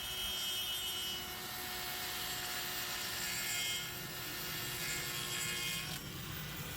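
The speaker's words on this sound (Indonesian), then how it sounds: "kalau kita ingin menggunakan mesin gerinda untuk memotong kayu" A DongCheng cordless brushless 5-inch angle grinder cuts through wood with a loud, steady high-pitched whine and gritty rasp that holds throughout, close up, with no talking.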